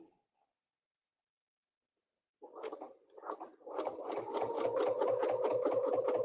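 A sewing machine double stitches across a quilt, starting after a quiet pause with a few short stuttering bursts, then settling into a fast, steady mechanical chatter close by.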